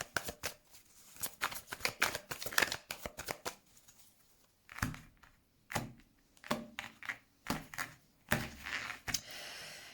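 Tarot cards being shuffled and drawn, a run of crisp riffling flutters followed by separate slaps and flicks as cards are laid down, close and fairly quiet with no talking.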